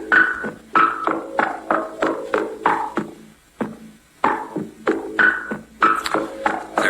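Short percussive synthesizer notes in a quick, bouncing rhythm, each tail smeared by delay echoes and reverb, with a brief gap midway before the pattern resumes at a steady, fairly loud level.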